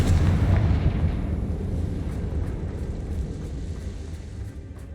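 A Confringo blasting spell bursts in Hogwarts Legacy, a heavy booming explosion at the start whose low rumble slowly decays over several seconds.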